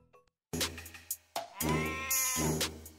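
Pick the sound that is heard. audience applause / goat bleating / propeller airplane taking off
goat bleating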